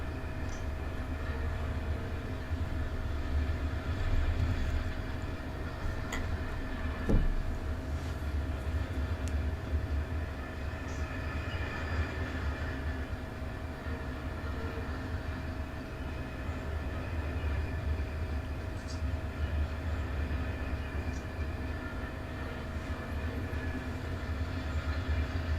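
Freight train, identified as Norfolk Southern-style Q177 intermodal, rolls past steadily in a railroad simulator, a continuous low rumble and rail drone holding for the whole stretch at moderate distance with no talk.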